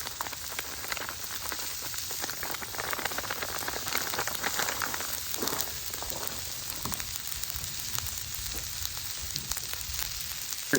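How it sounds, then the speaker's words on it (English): Rice frying on a discada for steak fajitas, a dense continuous sizzle with rapid crackling pops, close and steady throughout, with no talking. "Popping in there, that rice."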